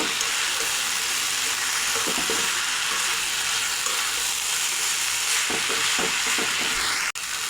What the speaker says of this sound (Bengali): ভেজে রাখা মাছের মাথা সব কিছু মিশিয়ে নেব।